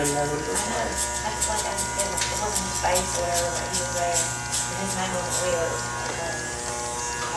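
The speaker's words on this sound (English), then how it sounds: "The solid drive clippers are nice." Electric hair clippers buzz steadily during a military-style high and tight haircut, with rhythmic pulsing as the blades pass through hair and someone talking over the hum.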